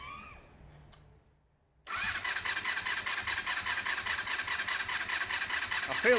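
After a quiet moment, a Honda RVF400 motorcycle's starter cranks the engine in a fast, rhythmic churning pulse that runs on without catching, with the battery going flat.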